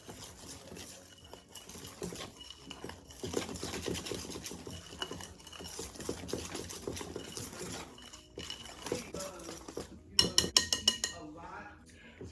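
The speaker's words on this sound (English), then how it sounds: "we're going to whisk all these ingredients together until they're well combined" Pumpkin spice cupcake batter being whisked in a bowl, a busy rapid clatter of the whisk against the bowl running throughout, with a few sharper metallic clinks near the end.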